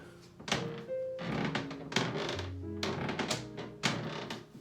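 Footsteps land on a shower floor in a house, giving a series of dull thunks with short creaking tones, irregularly spaced and fairly close.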